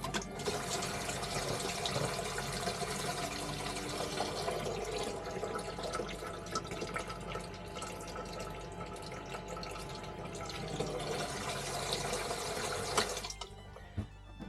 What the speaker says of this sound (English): Did you hear how loud the motor got?